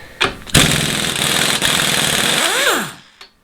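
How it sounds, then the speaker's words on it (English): Pneumatic air impact gun on a bolt of a Chevy 250 six-cylinder engine: a short burst, then a loud, continuous harsh rattling that lasts about two seconds and winds down in a falling whine. "so we'll see if the air gun will take it off"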